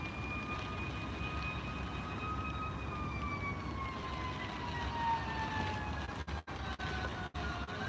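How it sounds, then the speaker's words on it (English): A fire truck siren wails behind a storm-chasing vehicle in northeast Tennessee during high winds, its long tones slowly falling in pitch. The siren stays steady and fairly distant over road rumble, with a few brief dropouts near the end. "Pretty sure, yeah, fire truck behind us there."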